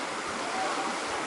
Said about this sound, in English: this is the shallow end of the creek and the rapids and the beach